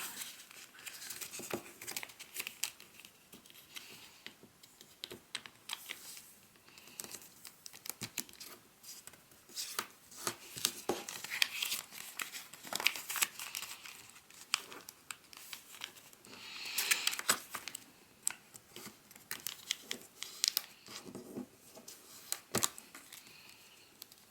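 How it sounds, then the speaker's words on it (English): Paper being creased and folded into an origami bat gives soft, continuous crinkling and rustling, close and fairly quiet, with scattered sharper crackles throughout and no talk. "next thing we're going to do is fold both edges towards the center"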